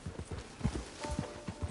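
Horse hooves clip-clop in Red Dead Redemption 2, a quick, even run of close hoofbeats on hard ground, about a dozen strikes with no talk.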